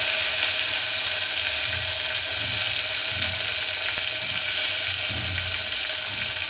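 Chopped onion, fresh coriander and tomato fry in oil for a Maharashtrian dal khichda, giving a steady, loud sizzle that holds evenly throughout with faint stirring knocks beneath.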